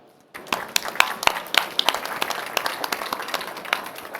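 Applause from an audience at a plastics industry panel, starting suddenly after a brief quiet moment and continuing as dense, steady clapping with a few sharper, nearer claps.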